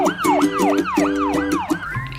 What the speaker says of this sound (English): Here's the ambulance. It goes Nino, Nino.